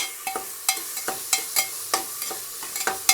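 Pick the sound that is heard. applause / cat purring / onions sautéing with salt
onions sautéing with salt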